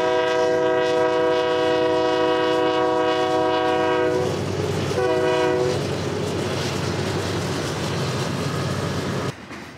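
A train horn sounds in long sustained blasts for several seconds, then breaks off as the rumble and clatter of the passing train fill the rest.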